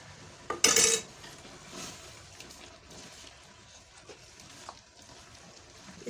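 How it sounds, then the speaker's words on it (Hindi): Mustard greens for sarson ka saag are pressed and churned by hand with a masher in a pot, a loud clattering burst near the start, then a low, steady scraping and squelching with occasional soft knocks, no talking. "अब इसमें मैं ये डालती जाऊंगी और गोटा लगाती जाऊंगी।"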